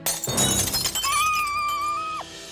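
Glass figurines shatter in a cartoon, with a loud crash and scattering tinkle of breaking glass, followed by a sustained ringing tone that fades out.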